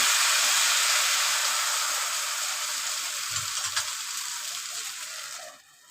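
Cumin seeds sizzle in hot oil in a pan, a loud, steady frying hiss with a brief stir partway through before the sizzle tapers off at the end.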